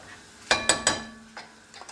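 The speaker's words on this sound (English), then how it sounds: "Once the tomatoes are added in, just give it one more stir" Spoon stirring chicken karahi with tomatoes in a pot, three quick scraping clinks in a row followed by two softer strokes, close and alone.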